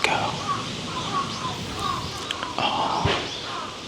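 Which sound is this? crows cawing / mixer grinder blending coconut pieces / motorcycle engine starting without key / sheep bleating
crows cawing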